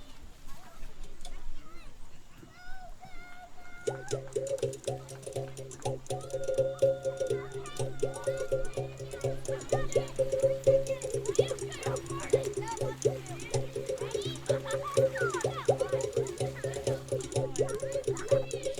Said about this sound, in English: This is the sound of the mouth bow.